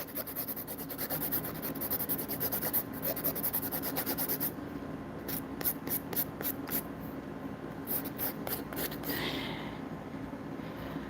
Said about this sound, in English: this is an 80/80 grit file. You hear that sound?